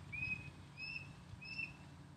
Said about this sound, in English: The bird agrees.